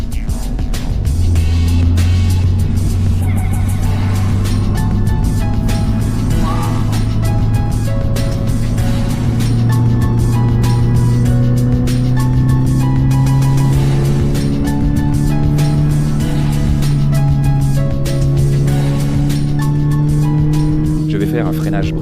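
A Toyota GR86 Yuzu Edition lapping a track, its engine droning loud and steady with pitch rising through the gears, heard from inside under continuous talk.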